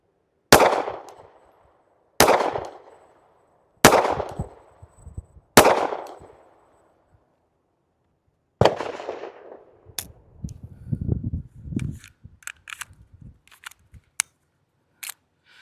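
Four sharp, loud pistol shots from an S&W Bodyguard 2.0 in .380 ACP firing 95-grain Winchester Defender ammunition at 5 yards, evenly spaced about two seconds apart, followed by clattering handling noises of the gun and slide.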